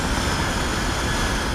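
Supertanker firefighting aircraft flying overhead, a dense, loud, steady roar of engine noise filling the whole range without a break, no voices.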